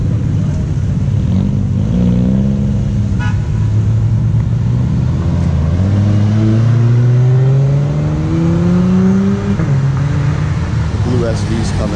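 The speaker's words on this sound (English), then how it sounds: "hopefully this guy is gonna give us a little acceleration pull" A Shelby Cobra pulls away hard at a cars-and-coffee meet, its engine note climbing steadily in pitch through a strong acceleration run, loud over crowd chatter and other idling cars nearby.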